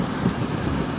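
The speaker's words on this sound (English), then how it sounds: "Okay, pretty decent rain now." Steady rain falling outdoors, a dense, even hiss with low rumble underneath, moderately loud and continuous throughout the short stretch, with no voices.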